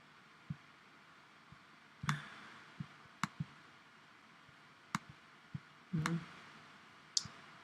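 Sharp, isolated computer mouse clicks while setting up 3D printing software, about ten irregular taps spread over several seconds against a quiet background, some doubled, close and fairly crisp.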